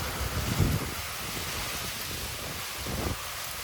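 Strong thunderstorm wind gusts in Frisco, Texas, a loud, continuous roar buffeting the microphone, swelling in a couple of heavier surges.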